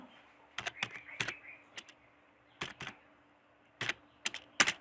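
Typing on a computer keyboard in short bursts of quick, crisp keystrokes separated by pauses, close and clear over a faint steady hum.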